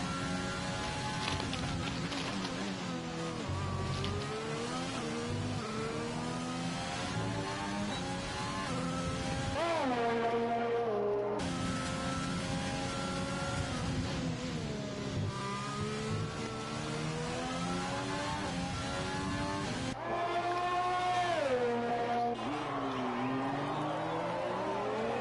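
Formula racing cars on hot laps at the Canadian Grand Prix in a racing game, engines screaming and rising and falling in pitch through gear changes, a steady, continuous high-revving drone with no gaps.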